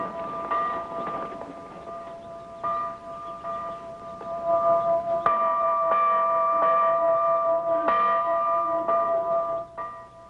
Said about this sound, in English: Don't sound like any church bells I ever heard